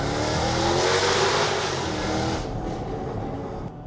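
An Audi A7 accelerating hard over a small bridge, a steady loud broadband engine and road roar that swells then eases slightly, recorded from inside or close to the car with no talk.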